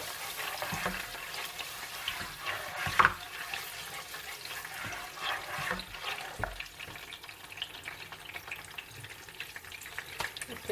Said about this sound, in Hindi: अब मैं डालूंगी इसके अंदर अदरक लहसुन का पेस्ट, तो थोड़ा सा भून लेंगे